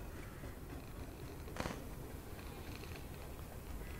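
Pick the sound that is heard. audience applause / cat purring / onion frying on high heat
cat purring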